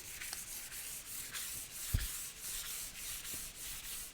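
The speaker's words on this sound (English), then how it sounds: "And of course the wet sanding works better." Wet sanding of orange-peel paint on a Suzuki motorcycle gas tank, a steady rhythmic rubbing scrape repeating about every half second, close and continuous with one sharp knock midway.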